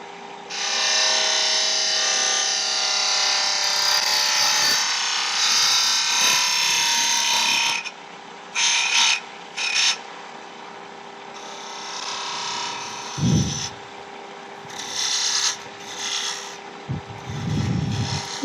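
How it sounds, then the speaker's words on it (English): A spindle gouge shear-scrapes inside a turned wooden keyring tube, giving a close, steady rasping hiss over the lathe's hum for several seconds, then short intermittent scraping bursts with pauses and a few low knocks. "now I can get into there with my favourite spindle gouge, shear scrape away"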